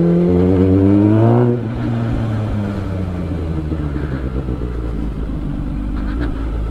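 A Kawasaki Ninja ZX10 motorcycle with a straight exhaust revs loudly up close, a rising engine note falling back into a steady, deep idle rumble.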